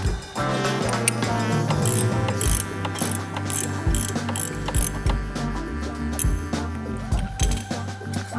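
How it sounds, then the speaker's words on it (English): A hand ratchet fitted with a T45 Torx bit loosens the lower screws of an engine guard on a 2014-2025 Harley-Davidson Touring motorcycle, with steady close clicking pawl strokes and the odd metallic clink, and no voices. "you're gonna do that with a T45 Torx for your lower two screws"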